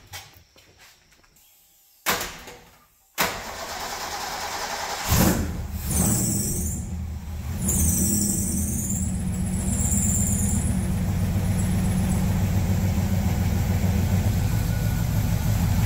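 A car fitted with an extremely tall intake clicks and cranks a few times, then catches and settles into a loud, steady idle that runs on close by.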